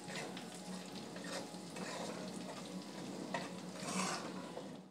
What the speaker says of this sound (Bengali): দেখো তাড়াতাড়ি ভেজে নিতে হবে, আর কয়েকবার ভেজে নেওয়ার পরেই একটু নাড়িয়ে চাড়িয়ে নেওয়ার পরেই কিন্তু ম্যাগি মশলাটা অ্যাড করে দিতে হবে